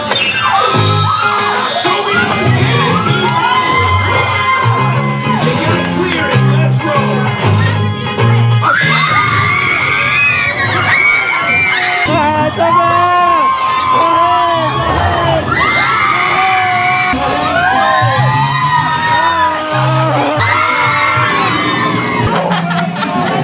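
A crowd of riders screams and whoops continuously on a theme park ride at Disneyland, Anaheim, loud and close, with rising and falling shrieks and excited voices layered throughout.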